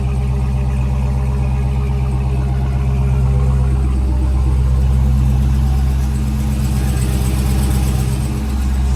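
A 2015 Chevy Tahoe engine runs steadily at close range after sitting unused, with a loose-sounding exhaust giving a continuous deep, rumbling drone and a slight rise partway through.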